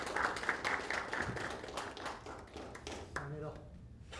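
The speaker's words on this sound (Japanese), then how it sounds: "皆さん拍手お願いします" Audience applause at a Kyoto Sanga F.C. new-squad presentation event, a fairly faint patter of clapping heard under a voice that keeps talking, thinning out toward the end.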